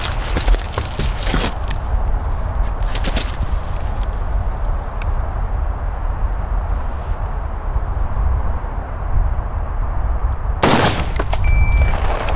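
A handgun fires during a timed shooting drill on a range. Sharp, loud shots come in clusters near the start and again toward the end, with a quieter stretch of outdoor ambience between them.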